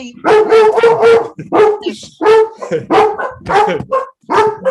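Several dogs bark in repeated loud, close bursts over nearly five seconds, with yips and brief gaps between the volleys.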